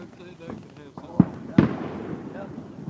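Many fireworks going off over a lake at night: a few distant booms and pops in quick succession, with someone talking over them.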